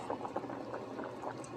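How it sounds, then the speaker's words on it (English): Quiet bubbling of water boiling carrots in a pot, a soft steady simmer with small irregular pops, heard alone and fairly close. "The carrot is boiling."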